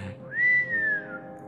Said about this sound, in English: she'd just whistle